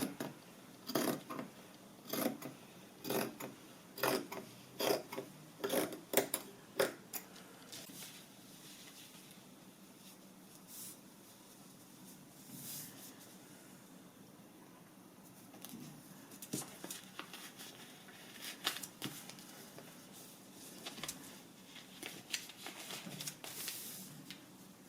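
Scissors cut cotton fabric along a pattern for a child's bandana, with quick, close snips in a regular rhythm at first, then softer, scattered cuts and faint handling rustle.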